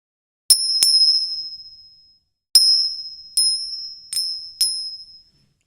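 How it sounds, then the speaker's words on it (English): A bright bicycle-style bell dings during a livestream: two quick strikes, a pause, then four more spaced rings, each clear tone ringing out and fading into silence. "Where's my bell sound"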